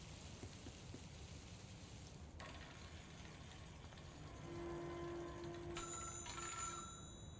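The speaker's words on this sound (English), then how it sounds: "Phone's ringing?" An old-style telephone bell rings in the game Control, the sound rising partway through over a steady rain-like hiss, faint and somewhat distant with a sustained electronic tone beneath.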